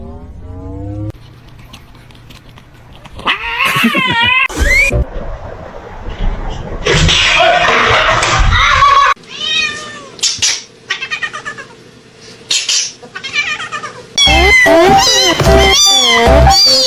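A house cat meows loudly and close up, giving several drawn-out, wavering cries with pauses in between, while a person talks in some of the gaps.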